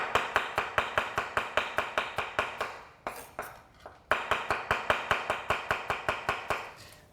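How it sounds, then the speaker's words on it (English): A knife chops halved radishes on a cutting board in quick, even strokes, sharp close taps with a brief pause midway before the steady rhythm resumes. "Now you're much more in control of cutting the radishes."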